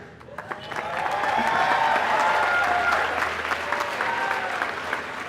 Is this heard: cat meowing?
no